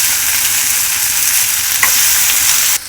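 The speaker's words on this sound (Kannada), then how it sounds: "ಈಗ ಇದನ್ನು ಸ್ವಲ್ಪ ಫ್ರೈ ಮಾಡಬೇಕ್ರಿ ಎಣ್ಣೆಯಾಗ ನೋಡಿರಿ." Eggplant sizzles steadily in hot oil in a pan for a stuffed brinjal curry, with a loud, continuous crackle and a brief stir toward the end.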